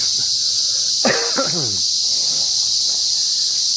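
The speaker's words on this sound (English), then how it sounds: "I apologize on behalf of what sounds like millions and millions of cicadas" A loud, constant high-pitched drone of countless cicadas after a night thunderstorm dominates, with a brief voice cutting in faintly underneath.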